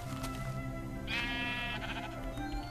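Sheep bleating in Minecraft, one clear bleat rising over steady game background noise with no talking.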